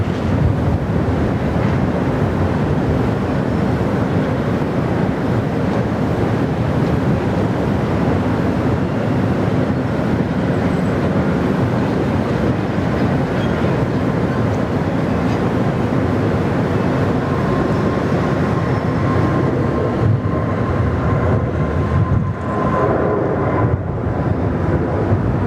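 United Airlines airliner taking off at Sydney Airport, a loud, steady engine roar that holds throughout, heavily buffeted by wind noise on the microphone, easing slightly toward the end.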